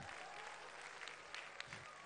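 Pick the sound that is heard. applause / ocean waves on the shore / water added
applause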